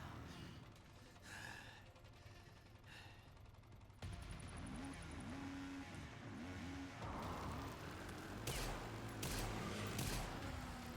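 Busy game soundtrack from Resident Evil Requiem with a burst of rapid gunfire and mechanical clatter during a motorcycle fight, fairly loud and continuous, with sharper shots toward the end.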